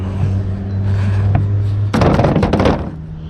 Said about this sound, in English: And knock my drill over while I'm at it.